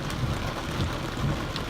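Hurricane Harvey rain pouring down in August 2017, a thick, even hiss of heavy rainfall with low rumbling undertones, near and steady over a short stretch, no one speaking.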